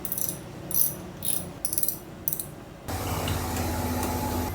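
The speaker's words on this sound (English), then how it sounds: "I'm gonna go ahead and disconnect the positive terminal" A ratchet wrench loosens the positive battery terminal on a Nissan R35 GT-R, giving several short clicking bursts close by, followed by a steadier mechanical rustle.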